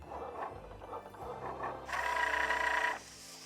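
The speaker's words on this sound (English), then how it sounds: "We are going to print it out now." A home printer runs a craft design print, whirring mechanism with rhythmic clicking feed sounds, then a louder buzzing whine for about a second before settling down again.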